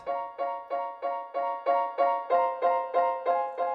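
Synth lead in Logic with its envelope turned down plays a steady run of about eleven evenly spaced, softly attacked tonal notes that sustain into each other, close and alone.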